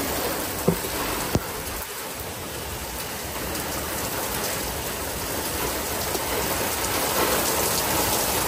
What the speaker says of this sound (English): it started raining on my way home